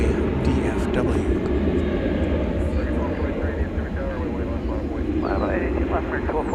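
An American Airlines Boeing 737-800 at DFW Airport rumbles on the runway with a steady, loud low engine roar that holds throughout, with faint wind and outdoor background noise around it.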